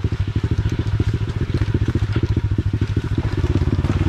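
Mini motorcycle on a dirt trail, its small engine buzzing in a fast, steady pulse close to the recorder, loud and rough throughout as the bike rides along.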